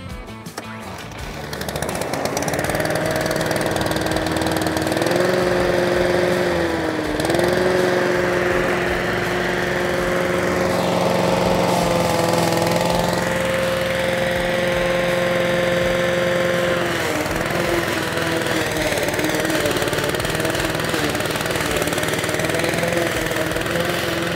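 A Weibang self-propelled rotary lawn mower starts and runs steadily, its engine drone loud and close with a constant hum that shifts slightly in pitch as the load changes, alone without talk.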